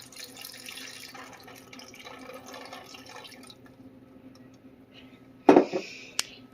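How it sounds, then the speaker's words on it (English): A cup of water is poured into the bottom of a metal roasting pan for a turkey: a sudden splashing burst near the end, with a shorter splash after, following quieter kitchen clatter and hiss. "I'm going to pour that water into the bottom."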